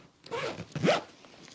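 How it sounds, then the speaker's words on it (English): Two short zipper pulls on a small backpack's compact zippers, each a brisk rasping zip, close and clear with no talking. "Even though these zippers seem small, I find that they work really well."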